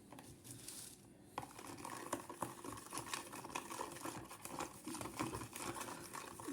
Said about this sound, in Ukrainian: Так, щоб трошки розчинилася кухонна сіль перемішуємо